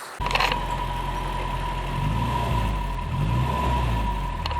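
A Volvo engine idles through an upgraded IPD exhaust, steady with a deep, throaty rumble and a constant hum, running alone without voices for several seconds.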